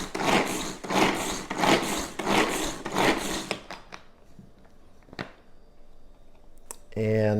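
Repeated pulls of a manual pull-cord vegetable chopper cutting red peppers, a quick rhythmic series of close whirring rasps for about three seconds, followed by quieter handling clicks and a brief voice at the end.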